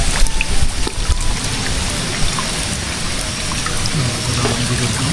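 Rain pours steadily onto a river, a loud dense hiss of drops striking the water throughout, with a low engine-like hum appearing near the end.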